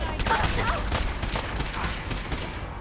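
Rapid bursts of gunfire from a Fallout 4 firefight crackle steadily for about three seconds, dense overlapping shots with a voice speaking over them.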